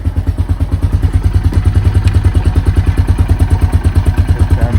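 A Honda Foreman ATV engine runs steadily and close by with a regular pulsing chug, thumping loudly throughout as the machine is shifted into gear.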